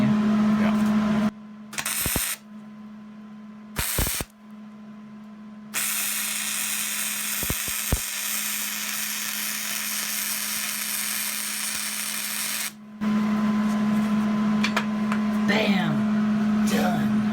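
Flux core welding on steel loft brackets for an arched cabin kit produces a loud steady buzzing crackle in several bursts, the longest running several seconds, with brief talk and a hum between the bursts.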